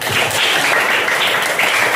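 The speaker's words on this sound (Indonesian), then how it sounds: "tepuk tangan buat Dinda" Classmates applaud a student in a school lesson, a short dense burst of many hands clapping together at even loudness for about two seconds.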